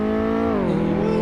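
A car engine in the Car Mechanic Simulator 2018 video game revs and accelerates, a steady droning whine that dips in pitch as it shifts, continuous and close with no talk over it.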